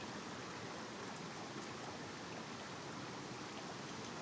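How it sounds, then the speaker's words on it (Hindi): A steady, faint wash of running water, like a stream or trickle, fills a pitch-dark spot in Japan lit only by a torch; the rushing sound is continuous and even throughout, with no voices. "पानी का साउंड है।"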